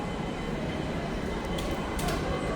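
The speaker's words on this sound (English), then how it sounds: "The train is approaching." A shuttle train approaches with a steady, loud rumble of wheels on rails and a few faint higher metallic squeals near the end.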